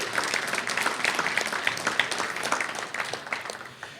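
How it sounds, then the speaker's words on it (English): Applause ripples through a school board meeting for student athletes, a moderately loud patter of individual claps that slowly tapers off over a few seconds. "round of applause"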